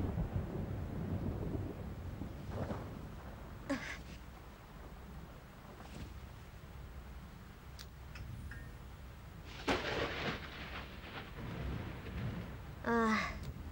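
A thunderstorm sends out several sharp cracks and rumbles of thunder, spaced apart with quieter stretches of low background noise between them.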